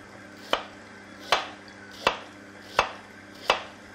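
A parsnip is cut on a board: five evenly spaced sharp knife chops, close and crisp, with quiet room tone between them and no talking.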